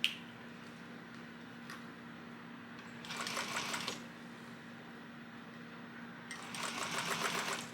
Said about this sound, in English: And now we're going to top stitch.